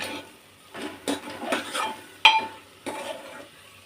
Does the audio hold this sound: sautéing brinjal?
yes